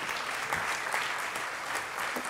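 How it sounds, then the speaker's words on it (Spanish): An audience applauds at a volunteering awards gala in Avilés, steady dense clapping from a full hall that holds even and moderately loud throughout, with no voices over it. "Pelayo García, un aplauso"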